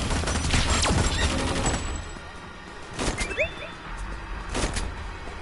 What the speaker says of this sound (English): I want flipping rapid fire rounds